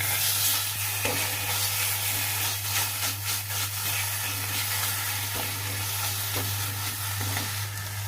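Tomato pieces fry in a pan with spices, cooked in little oil, giving a steady soft sizzle at moderate level with occasional stirring scrapes and no talk.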